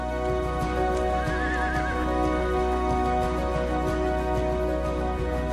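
Przewalski's horses whinny in a wavering neigh over a steady bed of low hoof clip-clop and ambient noise, close and fairly loud throughout.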